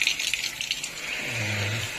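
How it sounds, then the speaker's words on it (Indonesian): Water splashes and gushes in a steady rinse over a part of a Midea Eva fan/cooler, a broad hiss that swells into a fuller running pour near the end. "cuma disiram-siram aja gitu seperti ini"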